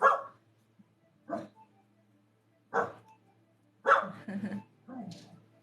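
A dog barks in several separate bursts, fairly close and loud, with pauses between them, while background voices from a livestream setting are faintly present.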